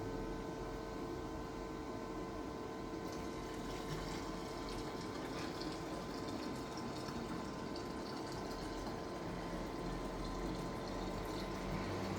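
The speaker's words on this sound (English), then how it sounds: "Fill the filter tank with 800 milliliters of clean water." Clean water pours steadily into the filter tank of a 600-watt carbon cleaning machine, a soft continuous trickling rush at low volume with no pauses and no voices.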